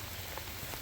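Rain outside, a steady close patter and hiss with faint droplet ticks, continuous and unbroken over a short moment.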